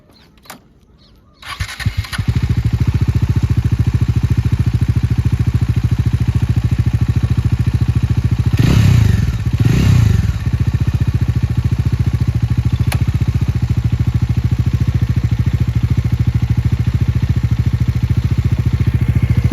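A Bajaj Dominar 400 motorcycle, a 400 cc bike, cranks and fires up, then settles into a loud, steady, throbbing idle close by, with a brief rise in revs partway through.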